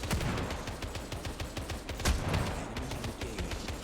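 Rapid gunfire bursts from a sniper rifle in the Final Fantasy VII: The First Soldier video game, dense repeated shots with one sharper report near the middle, loud and continuous.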